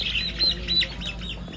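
Brown broiler chickens around 35 days old squawk in a crowded shed, with several loud, close, harsh calls overlapping across a brief moment.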